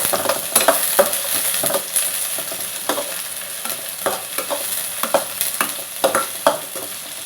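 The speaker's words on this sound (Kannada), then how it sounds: "ಇದಕ್ಕೆ ನಾನು ಒಂದು ಉದ್ದುದಕ್ಕೆ ಹೆಚ್ಚಿರುವಂಥ ಈರುಳ್ಳಿನ ಹಾಕೋತಾ ಇದ್ದೀನಿ." Sliced onion sizzles in a few spoons of hot oil in a pan, a steady frying hiss broken by repeated stirring scrapes at a regular pace, close and fairly loud with no voices.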